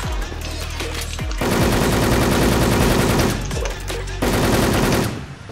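Bursts of automatic gunfire from the online shooter Wolfteam, loud rapid rattling volleys in two long strings with short pauses and single shots between, near and dominant.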